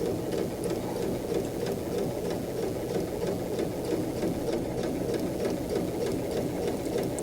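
A sewing machine runs an edge stitch close along a garment seam, its needle clattering in a fast, even rhythm that holds steady the whole way through, fairly quiet and alone.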